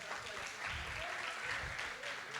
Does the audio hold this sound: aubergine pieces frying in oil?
no